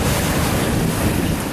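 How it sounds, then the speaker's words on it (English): Ocean waves crash against seaside rocks in a loud, continuous roar of surf mixed with wind noise, close to the microphone and without any talking. "presumably by the way the waves crash into that particular part of rock"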